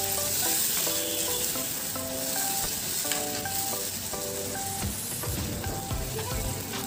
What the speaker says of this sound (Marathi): आता आपण ही जी पेस्ट बनवली होती टोमॅटो मिरचीची ती टाकूया व हे देखील आपण व्यवस्थित मिक्स करून घेऊया.